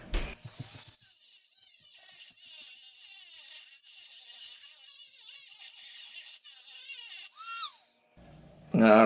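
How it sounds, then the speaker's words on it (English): A Dremel rotary tool grinds a deeper slot into a screw head with a steady, loud, high-pitched whine that runs for several seconds, wavers slightly as it bites, then cuts off, followed by a brief burst of noise. "So what I'm gonna do is take a Dremel"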